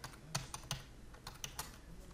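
Keys tapped on a computer keyboard while a partition name is typed during a Disk Utility setup, a quick irregular run of close, crisp clicks with short pauses between bursts and no speech.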